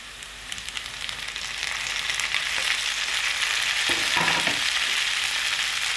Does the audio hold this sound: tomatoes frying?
yes